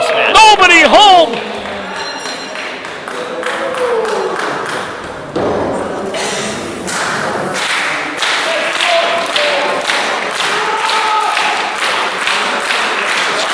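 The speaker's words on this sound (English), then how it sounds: "Crowd showing their appreciation." A wrestling crowd cheers and claps in appreciation during an indie match between "Unbreakable" Andy Harner and Shawn Phoenix, steady applause and shouts rolling on under an announcer's commentary, with occasional thuds from the ring.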